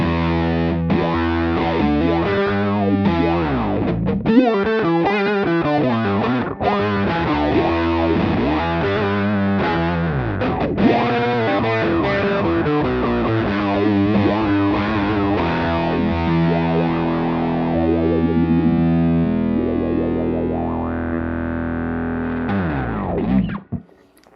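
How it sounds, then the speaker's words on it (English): An instrument runs through a Beetronics Zzombee Filtremulator pedal with added gain, producing a loud, distorted, sustained tone that sweeps and wobbles with a filtering, chorus-like motion for over twenty seconds, then trails off at the end. "Let's add some more gain to our instrument signal."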